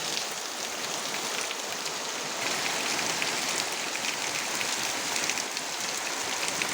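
Heavy rain pours steadily onto surfaces outside a home, a dense, even hiss of drops with no voices, holding constant throughout.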